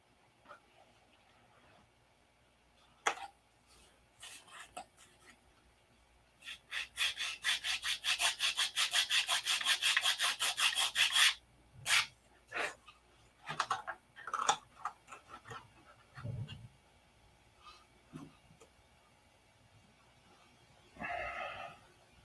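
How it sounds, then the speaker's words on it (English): Sanding the edge of a P-47 model aircraft by hand, a close run of rapid, even rasping strokes for several seconds, then scattered shorter scrapes and taps with pauses between. "we're going to have to sand this edge from about right here."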